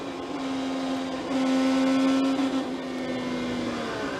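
An IndyCar engine revs under hard acceleration at a race, a sustained high mechanical whine that swells briefly in the middle, then settles and holds steady, loud and without speech.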